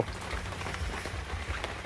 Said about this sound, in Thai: ฝนตกครับ